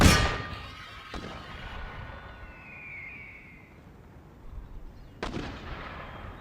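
Cannons fire in Empire Total War. A loud boom opens, another sharp shot follows about a second later, and a third booms near the end, each trailing off over a rumbling battlefield.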